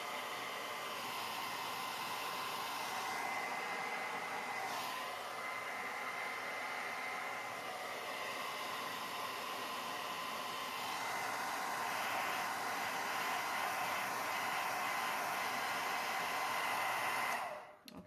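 A handheld heat blower on its high setting warms the dark leather of a handbag. It gives a steady, close, loud whoosh that runs unbroken for about seventeen seconds and then cuts off.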